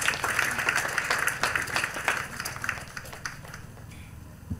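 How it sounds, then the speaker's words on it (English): Church congregation clapping together in praise during a worship service, a steady rhythmic patter of many hands filling the room with some voices mixed in. "Let's clap for Jesus Christ."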